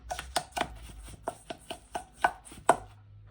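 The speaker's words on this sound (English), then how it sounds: "Here we go, mix it up." Crushed biscuits being mixed for a homemade cheesecake base, heard as a run of sharp, close scraping and tapping strokes in an uneven rhythm, with no talking.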